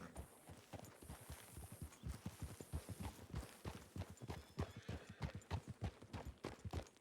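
Horse hooves clip-clopping in the Red Dead game on a WildRP server, a quick steady trotting rhythm of close, crisp hoofbeats throughout.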